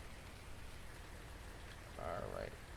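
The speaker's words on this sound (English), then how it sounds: "the rain's starting to stop." Steady hiss of falling rain in the PC game Wasteland, a soft, even wash of noise with a brief brighter tone rising near the end.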